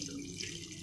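Water runs in a steady splashing stream into a pot of mutton, brief and fairly close.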